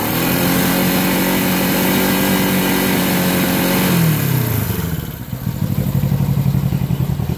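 Honda CB350 motorcycle engine idling roughly with a misfire during a breakdown repair; the loud, close engine note runs steadily, then falls away as it is shut down, leaving an uneven sputtering.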